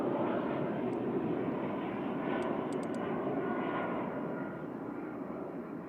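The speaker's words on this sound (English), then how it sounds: "This is EasyJet 2200 from Berlin." An EasyJet Airbus A320 Classic jet airliner from Berlin rumbles overhead at an airport, a steady broad engine roar that fades slightly toward the end, heard alone without talk.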